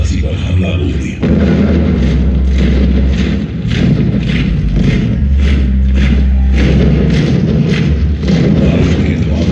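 Booming gunpowder blasts from a night light-and-sound show at Jhansi Fort, staging the 1858 British attack on Jhansi: a dense, continuous low rumble of thuds and explosions, loud and close, with no break.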